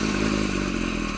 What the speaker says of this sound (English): you can hear the chatter when I release the clutch. That's that single mass flywheel.